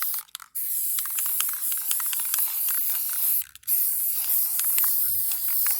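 A close, steady hiss of an aerosol can spraying a light coat of white paint, running almost continuously with two short pauses where the nozzle is released, plus faint rattles and clicks.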